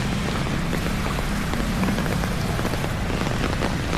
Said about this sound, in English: when it rains this hard